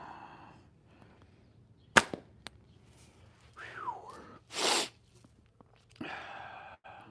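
A slingshot with strongly tapered bands fires clay ammo, giving a sharp single snap followed by a few faint clicks, then later a whooshing swish, all outdoors with no talk.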